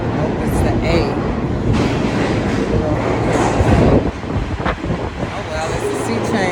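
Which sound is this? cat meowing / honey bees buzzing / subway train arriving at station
subway train arriving at station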